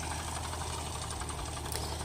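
A Ford 8N tractor with a sickle bar mower runs steadily on wet ground, a continuous mid-pitched engine drone with a faint rhythmic knock and vibration, heard close.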